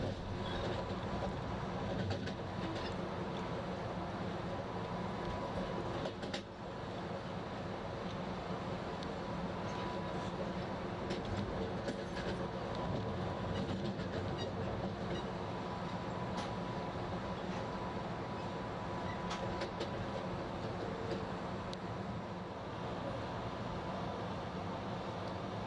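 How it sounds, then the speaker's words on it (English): A steady, loud rumble of the Empire Builder passenger train passing a large classification rail yard near Minot, North Dakota, with continuous rolling rail noise and faint clatter throughout, no pauses. "The train is passing the sizable Gavin classification yard."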